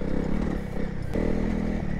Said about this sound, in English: There's still power in the small 300 and it's so smooth.